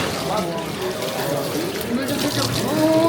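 Water runs steadily from a tap at a self-service glass washing station, a continuous close splashing trickle, with people talking over it.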